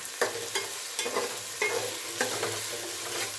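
Onions fry in a pan with a steady sizzle while a spoon stirs them in regular scraping strokes, close and moderately loud, with no voices.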